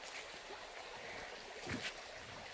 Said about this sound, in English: I'm just taking a video of this gurgling creek.